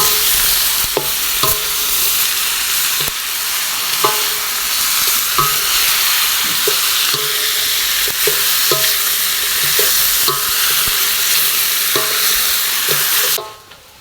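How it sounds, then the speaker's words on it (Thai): Chili and rat meat being stirred in a hot pan, a steady loud sizzle and frying hiss with repeated scraping knocks of the utensil against the pan, continuous for most of the clip before cutting off near the end. "คนพริกให้มันเข้ากับหนูครับ"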